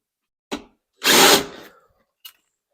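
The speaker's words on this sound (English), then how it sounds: "So I'll take out this back hinge bolt" Power drill with a T40 Torx bit backing out a hinge bolt on a Polaris RZR Pro S, a brief blip, then a loud half-second whir, and a short final tap, close up without talk.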